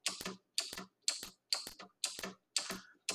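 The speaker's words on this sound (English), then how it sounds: "if you can hear that over the clicking of my keyboard" A computer keyboard clicks in six evenly spaced bursts of keystrokes, each a close, crisp double tap, with near silence between them and no voices.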